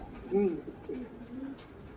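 A pigeon gives a short, low cooing call near the start, followed by softer murmuring coos over faint background noise.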